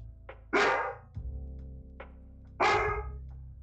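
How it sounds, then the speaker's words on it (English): A pet dog barks indoors, two loud sharp barks spaced about two seconds apart, each preceded by a softer yip, over a steady low background hum. "She's just over here barking."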